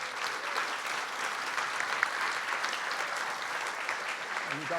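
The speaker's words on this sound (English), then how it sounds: "I'd like you to get one more round of applause for these hardworking students" Sustained applause from a festival opening-night audience for a team of students, dense steady clapping throughout with a brief voice near the end.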